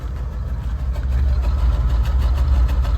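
A 1978 Buick Electra engine running rough and laboring, a loud, close, steady low rumble with a slightly uneven pulse throughout, no voices.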